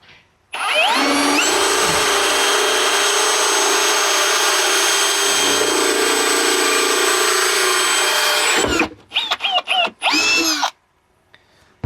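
A Forstner bit bores through lightweight plywood in one long steady drilling run, loud and close, then stops and restarts in a few short bursts before falling quiet.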